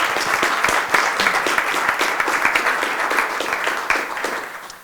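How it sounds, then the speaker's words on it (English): An audience at a community housing talk in Vail and Eagle County applauds supporters, a lively burst of many hands with crisp individual claps audible, holding steady before tapering off at the end. "Would you please give all of those supporters a round of applause?"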